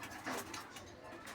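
Older pigeons coo inside a breeding room, a soft brief murmur heard faintly over the room's background hiss, with no talking.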